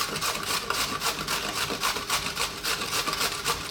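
Peeled cucumbers grated for tzatziki, a steady run of close, rhythmic wet rasping strokes in quick repetition with no talking.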